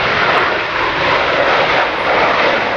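Loud, steady roar of jet aircraft flying in formation and pulling up into a loop at the RIAT 2009 airshow, a broad continuous engine rush with no pauses.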